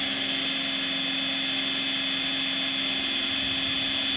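A steady, loud mechanical whine with a constant hum runs throughout as a drill-driven pump transfers liquid, churning without pause.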